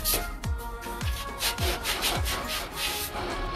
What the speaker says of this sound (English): So even hand sanding this leg was relatively quick